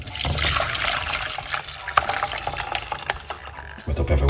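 Liquid drink being poured off after cooking with garlic, a steady splashing trickle running for a few seconds with small clinks, moderately close.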